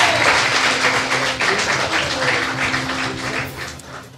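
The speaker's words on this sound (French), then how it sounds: "On peut les applaudir." Audience applause at a live podcast event in Rennes, a dense patter of clapping that starts loud and slowly tapers off, with faint tonal background sound underneath.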